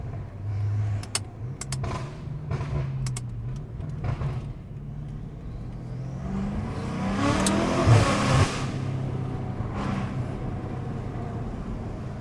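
A Corvette Z06 engine revs up loudly, rising and falling through several throttle blips over steady rumbling, with sharp pops and crackles mixed in.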